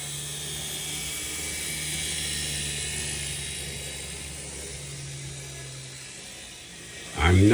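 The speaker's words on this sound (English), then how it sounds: "And now it's time to run some trains." A small model railroad train runs with a soft, continuous motor whir and faint mechanical rattle, holding steady for several seconds before a louder thump at the end.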